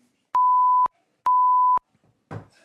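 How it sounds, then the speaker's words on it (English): Two loud, identical steady censor beeps, each about half a second, masking a slur shouted during a BAFTA awards ceremony, separated by a short gap and followed by a brief burst of noise. "the N-word, which we have beeped, was shouted out"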